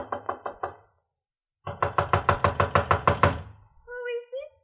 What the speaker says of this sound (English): I walked up the narrow awning-covered gangplank that led to the little deck and knocked at the door.